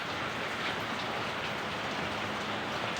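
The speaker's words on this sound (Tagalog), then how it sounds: "So, humina na rin po ang ulan dito sa may Pampanga." Rain easing off in Pampanga, a steady soft hiss of drops falling on surfaces at a moderate distance, even and continuous with no voices.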